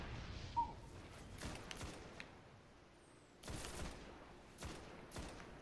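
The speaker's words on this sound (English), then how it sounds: "Those explosions? Those are my explosive rounds" Explosive rounds fired in the Destiny video game, heard as several sharp, fairly faint bursts of gunfire that are spread out over a quiet background, with no talking.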